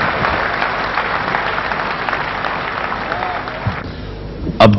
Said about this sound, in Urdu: تالیوں سے استقبال کیجیے